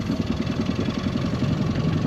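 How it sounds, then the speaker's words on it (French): A cold 20 horsepower outboard motor on a dinghy idles after sitting unused all winter, a steady close pulsing chug with a low throbbing rhythm and no talk. "Le moteur est un peu froid, il n'a pas tourné de tout l'hiver."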